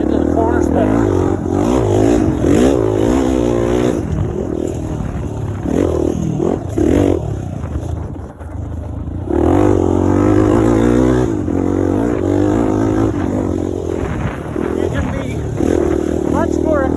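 A Honda XR400 four-stroke and a Yamaha YZ250X two-stroke dirt bike are ridden over choppy dry dirt, their engines revving and rising and falling in pitch with wind rush, loud and close throughout.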